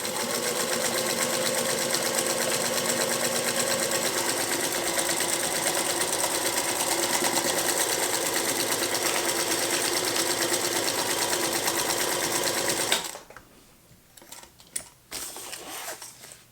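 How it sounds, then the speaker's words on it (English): A Singer Featherweight sewing machine runs steadily as it stitches fabric, a loud continuous mechanical whir for about thirteen seconds before it stops, leaving a few faint handling clicks and taps. "Does a great job of sewing that fabric."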